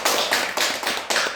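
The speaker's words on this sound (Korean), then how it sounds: "우리 홍 목사님 감사 박수 한번 해드립니다" A church congregation at a Korean service applauds a pastor, dense crowd clapping in quick, uneven surges, fairly close, with no voices.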